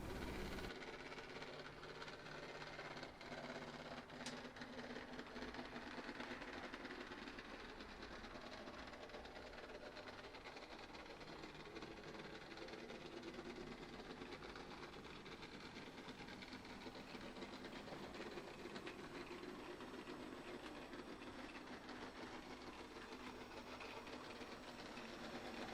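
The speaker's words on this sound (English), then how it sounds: "two trains passing in the station after dark" 00 gauge model trains run through a station with a faint, steady mechanical whir and rattle that carries on throughout, quiet and even, with no voices.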